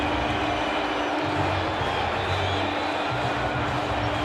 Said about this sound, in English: the crowd are applauding every time that Ambrose and Walsh stop the ball